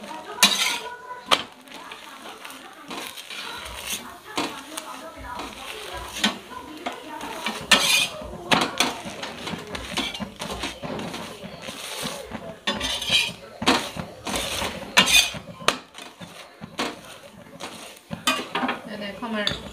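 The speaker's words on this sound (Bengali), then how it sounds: "এভাবে আমি সবগুলো ভেজে নিচ্ছি" Snacks frying in oil in a pan for a Bengali winter dish, with steady soft sizzling under frequent utensil scrapes, stirring and metallic clinks nearby, and a voice talking faintly now and then.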